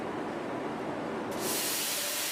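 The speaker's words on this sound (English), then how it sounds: "a layer of zinc is applied on the outer surface of pipes by plasma spray method" Plasma spray applies a zinc coating to the outer surface of ductile iron pipes in a factory, giving a continuous broadband hiss that grows brighter and louder partway through, with no voices.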